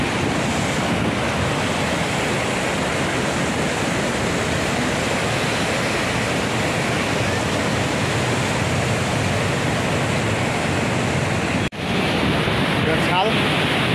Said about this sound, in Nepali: पानीको छाल